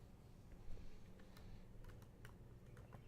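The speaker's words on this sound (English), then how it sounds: "Make sure to stand on the keyboard." A cat stepping on a computer keyboard, producing faint scattered key clicks in uneven bursts against a quiet room hum.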